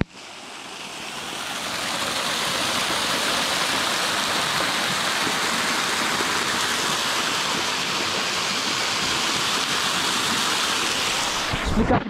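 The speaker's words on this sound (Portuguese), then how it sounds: "Por causa do barulho da cachoeira que tem." A waterfall roaring inside a cave: a loud, continuous broadband rush of crashing water that swells in within the first two seconds and holds steady, close and unbroken, with a brief knock at the end.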